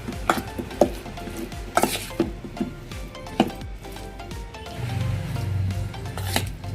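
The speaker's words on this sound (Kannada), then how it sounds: "ಈಗ ಇದನ್ನು ಚೆನ್ನಾಗಿ ಮಿಕ್ಸ್ ಮಾಡ್ಕೊಳ್ಳೋಣ" Marinated mushroom pieces being stirred and mixed in a bowl, with a string of close scraping and squelching strokes at irregular intervals, followed by a softer continuous rubbing near the end.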